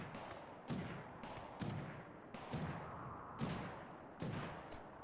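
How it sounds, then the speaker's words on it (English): Turret gunfire in the video game RimWorld, a series of sharp bursts and thuds at irregular intervals, fairly faint and distant in the mix. "Let it fight the turret."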